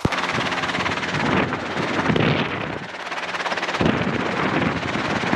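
A loud, steady Robinson R22 helicopter rotor chops and thrums continuously with rushing wind noise, heard from close inside or near the aircraft.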